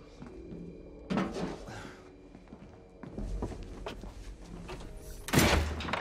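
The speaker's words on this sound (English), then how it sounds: "Buddy, shut the doors." Heavy doors pushed shut inside a hall, with a loud thud near the start and another hard slam near the end, set among shuffling footsteps and room noise.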